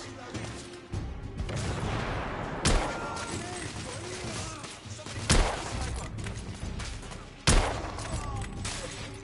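Gunfire and grenade blasts in a Victorian-era shooter game, three sharp explosive cracks spaced a few seconds apart over a bed of rumbling combat noise and shouting voices.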